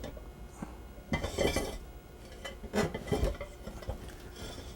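Moroccan tangia pot or dish slid across a kitchen counter during plating, a few scraping, clinking knocks of ceramic and metal at close range with no talking.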